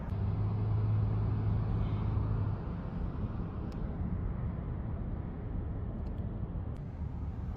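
Heavy road traffic rumbles past a car interior during an Uber ride, a steady low drone with a few faint clicks and ticks on top.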